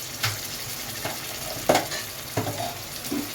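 Ginger garlic paste fries in a pan with chillies while making gongura chicken, a steady close sizzle broken by a few short stirring scrapes and clacks, with no talking.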